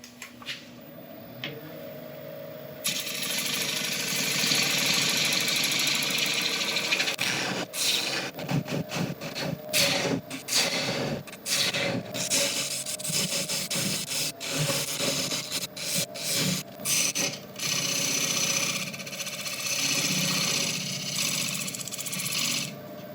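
Wood lathe cutting a tenon recess into a beech bowl blank, a steady close scraping and rubbing of the tool against spinning wood with uneven chattering bursts, running continuously and alone.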